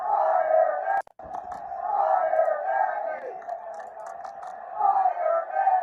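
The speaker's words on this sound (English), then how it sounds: "the crowd at Soldier Field, we got a little fire Nagy" Crowd chanting at Soldier Field during a Chicago Bears NFL game, a loud, sustained roar of many voices with rhythmic swells, broken by a brief cut near the first second, with no talk over it.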